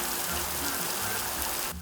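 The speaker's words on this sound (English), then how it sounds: "preserved by the misting showers of the fountain" Misting spray from the Redwood Fountain, a steady dense hiss of fine water falling like rain, close and continuous, cutting off just at the end.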